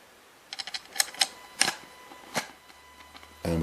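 A screw is turned by hand on a Kirby vacuum's belt lifter, giving a scattered series of small close clicks and ticks with quiet gaps between them.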